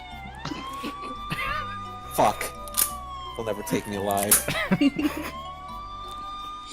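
Police sirens wail and rise and fall steadily through a tense game scene, a voice talking over them in short bursts.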